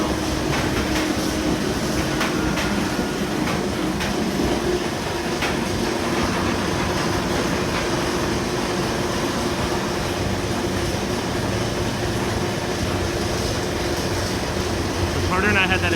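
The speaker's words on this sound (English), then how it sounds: "And there's the lift hill." A continuous mechanical clatter and rumble of a roller coaster car climbing its lift hill on the Kraken coaster at SeaWorld, steady and close, with voices faintly underneath.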